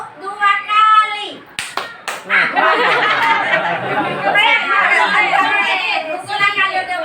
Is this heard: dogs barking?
no